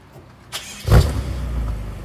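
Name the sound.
BMW M6 engine starting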